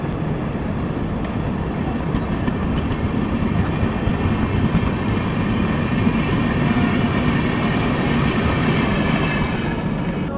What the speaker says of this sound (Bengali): সেই ট্রেনটা এখন ছেড়ে দিল।